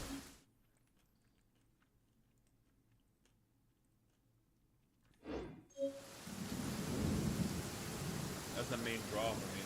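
In the video game Genshin Impact, near silence gives way to a sharp thunder crack, followed by a loud, sustained rumble with pouring rain that carries on to the end.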